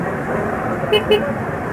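Two quick, short horn beeps from a Kymco Like 150 scooter sound over a steady engine hum, close by and fairly loud.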